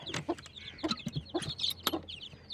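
Hens of the Undertaker line cluck close by in quick, repeated bursts, several short overlapping calls in a loose rhythm over a quiet farmyard background, with no voices.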